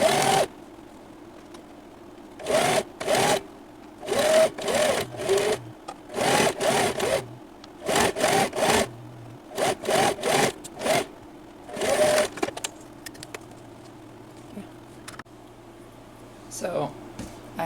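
Close bursts of a sewing machine stitching a purse lining, short runs separated by pauses, with a soft hum and small handling sounds between them.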